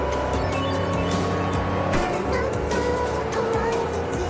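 Loud, steady rumbling car interior noise in a video game, a constant droning engine hum with faint clicks over the top.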